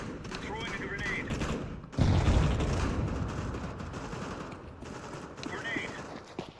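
A grenade blast in an online shooter game: a sudden heavy low boom partway through that decays into a rumbling tail, set among rattling gunfire and game noise.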